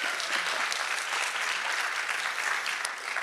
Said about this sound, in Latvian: aplausi Aigai